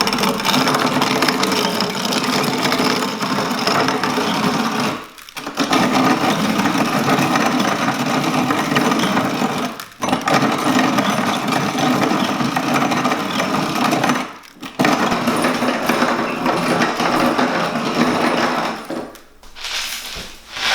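A grain mill grinds whole Danny corn kernels into flour with a loud, continuous rasping whir that stops briefly about every five seconds before starting again.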